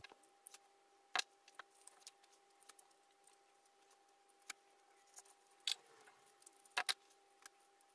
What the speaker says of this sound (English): I'm using this twine. I'm just going to cut its size.